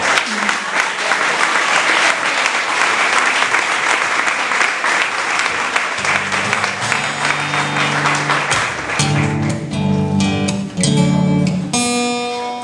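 Audience clapping at a night of poetry, humour and music, a dense, loud wash of applause filling the room throughout, with a voice and some tonal sounds joining in over the latter part.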